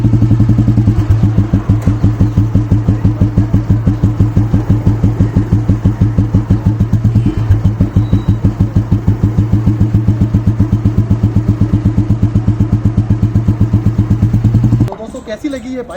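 A restored 1985 Royal Enfield Bullet motorcycle engine idles close by with a steady, loud thumping beat for about fifteen seconds, then cuts off abruptly near the end.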